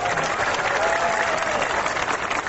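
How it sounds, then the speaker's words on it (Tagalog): Loud, continuous applause from a crowd, dense clapping that holds steady throughout. "Okay, isang palakpak na mga kapatid."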